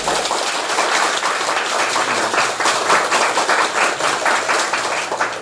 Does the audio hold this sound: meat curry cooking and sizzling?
no